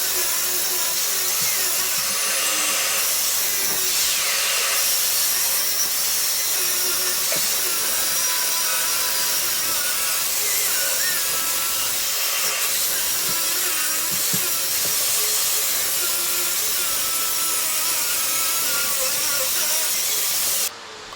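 A wall chaser grinds and whines continuously into a masonry wall, a harsh loud hiss with gritty rasping, steady for a long stretch with no talking.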